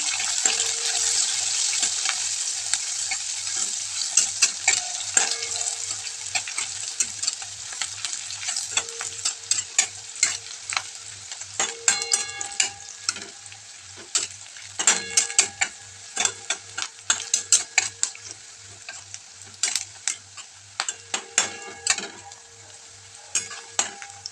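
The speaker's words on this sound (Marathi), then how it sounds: "मी तो आता कांदा आपण छान तळून घ्यायचा" Finely chopped onion frying in a pan for a spinach dish, with a constant bright sizzle and a series of sharp spatula scrapes and taps, close and clear, no talking.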